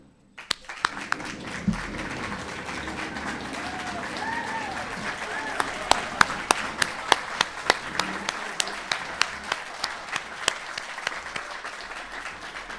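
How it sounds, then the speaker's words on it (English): Sustained audience applause fills a hall at an internal medicine resident graduation ceremony, with steady dense clapping and a few sharper individual claps standing out, while a voice speaks briefly near the start. "would you please stand up so that we can all thank you and applaud you?"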